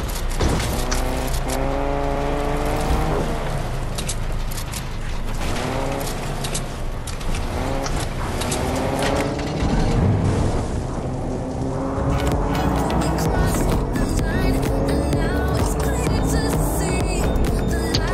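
A car engine runs in the Fortnite video game with a loud, continuous droning hum and shifting tones throughout, sustained and close.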